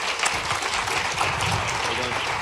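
Applause from the audience at a White House summit on child care and paid leave: a steady wash of many hands clapping that fills the whole moment, with voices mixed in.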